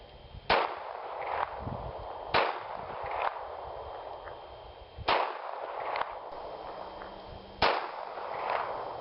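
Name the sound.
snub nose .38 revolver gunshots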